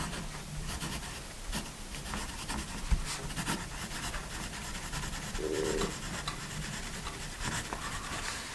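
A Dixon Ticonderoga pencil writing on paper, a close, continuous scratchy graphite rasp with short strokes and brief pauses, fairly quiet and with no talking.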